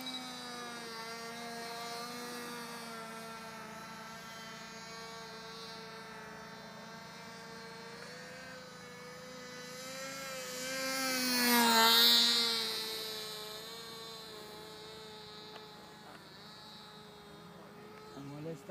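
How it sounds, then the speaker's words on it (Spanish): A model airplane with a Thunder Tiger .07 engine and no landing gear flies overhead. Its thin, high buzz drones steadily in the distance, then swells and rises in pitch as it passes close before fading again, with faint voices in the background. "Está molestando es el motor."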